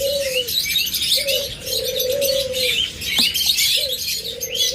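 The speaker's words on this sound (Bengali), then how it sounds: "মাশাআল্লাহ এখানে ডিম পায়রা রয়েছে।" Pigeons in a breeder's aviary coo repeatedly in low, drawn-out phrases, steady and fairly close, with chirping from other small cage birds such as lovebirds, budgerigars and finches filling the background.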